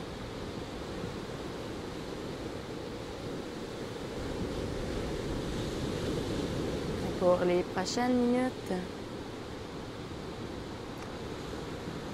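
Caribbean Sea waves wash in a steady, continuous surf roar with wind across the whole span, while a calm voice speaks briefly partway through.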